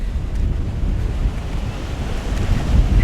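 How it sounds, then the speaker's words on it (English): Strong, cold wind blows steadily outdoors at sunrise, a loud, continuous low roar with microphone buffeting that rises toward the end; no voices. "it might be a little bit hard with all this wind"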